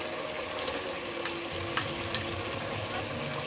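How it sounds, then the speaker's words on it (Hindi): Tender meat sizzles steadily in hot ghee while being stirred, a dense continuous frying hiss broken by the occasional light clack of the spoon, close and loud with no talking. "अच्छे तरीके से हम इसको भुनेंगे।"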